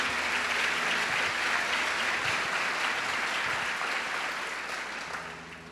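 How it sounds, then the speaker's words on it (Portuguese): Applause from a congregation at a Catholic sermon on vocation fills the space with steady, dense clapping that holds level and then tapers off toward the end. "aplauda isso"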